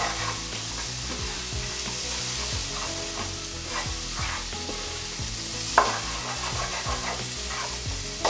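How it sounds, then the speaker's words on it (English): Steady sizzling as vegetables are stir-fried, with frequent scraping and stirring strokes of a utensil in a pan, continuous and close, with one sharper clack partway through. "I'm going to keep stir frying this until my veggies soften a bit"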